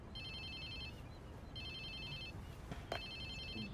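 A mobile phone rings in the video game Watch Dogs 2, with three bursts of an electronic ringtone separated by short gaps over steady game background noise and a brief knock.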